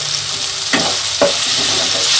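Chopped tomatoes sizzle in a kadai with fried ginger and garlic for dhaba-style kadai chicken, a steady close hiss broken by two sharp stirring scrapes, with no talk.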